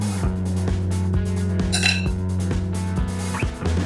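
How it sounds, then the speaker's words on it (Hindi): Gravy for paneer malai kofta being strained in a kitchen: a steady series of metallic clinks and taps from a spoon against a strainer and pot, repeating at an even pace over soft background music. "अब हम इसे छान लेंगे।"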